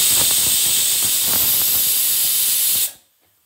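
A loud, continuous hiss of escaping steam as a pressure cooker whistle vents while cooking spiny gourd curry, cutting off abruptly near the end.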